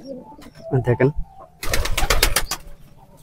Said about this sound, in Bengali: কবুতরটা কিরকম ডাক দে ভাই